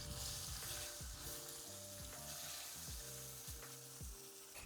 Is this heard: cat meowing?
no